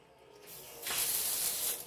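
Hot water sprays hard from a freshly opened tap during a plumbing pressure test, a sudden loud, close hissing rush that starts faintly, surges, then holds steady before easing slightly, with no talking.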